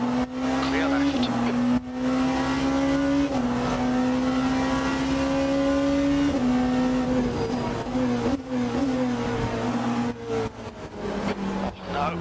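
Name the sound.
Porsche 963 race car engine in a racing video game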